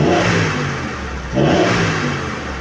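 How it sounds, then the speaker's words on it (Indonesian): A car engine with an idle speed control fault revs to warm up, giving a steady loud drone with a mid-length dip and then a fresh surge of revving, heard alone without talk. "Boleh kita gas untuk memanaskan mesin."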